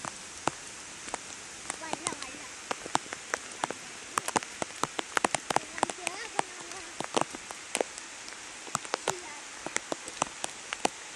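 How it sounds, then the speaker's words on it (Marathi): Light drizzling rain outdoors near a village river patters as sparse, irregular drops ticking on surfaces, close and crisp over a soft, steady background hiss. "इथं पाऊस पडतो थोडा थोडा रिमझिम रिमझिम आणि आपण पावसात भिजणार"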